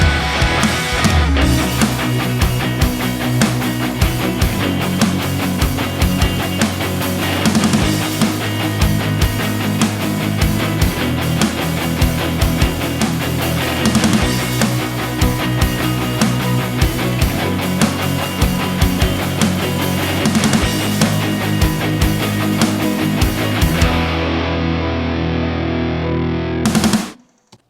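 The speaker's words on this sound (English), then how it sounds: "Here's what the chugging sounds like." Chugging distorted electric guitars play dense, continuous palm-muted rhythms with Softube saturation and compression on all instruments, loud and full for nearly half a minute before cutting off abruptly.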